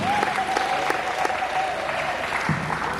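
A church congregation claps together in steady, dense applause, with crowd noise and a held tone running beneath and a louder clap burst near the end.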